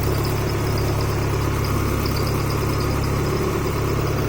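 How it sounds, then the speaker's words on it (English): A car engine idles steadily and loudly close by, a continuous even rumble with a constant low hum and no speech. "The car started now, so I can take it off."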